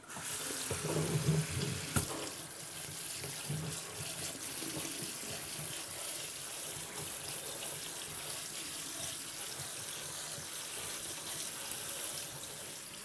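Cold tap water running over cooked pasta, a steady faint stream of water splashing in a sink, with one sharp knock early on and no talking.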